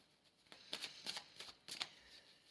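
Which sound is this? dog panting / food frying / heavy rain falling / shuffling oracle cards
shuffling oracle cards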